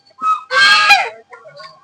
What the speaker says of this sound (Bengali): দেখুন কতগুলো রাজহাঁস